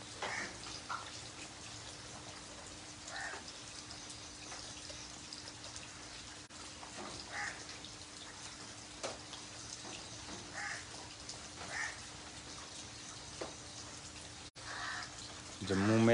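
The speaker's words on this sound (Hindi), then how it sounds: "जम्मू में लगातार बारिश का सिलसिला जारी" Steady rain in Jammu, a soft broadband hiss with scattered drips and patters running throughout, fairly quiet and even, with faint voice-like traces in the background and a brief louder burst at the end.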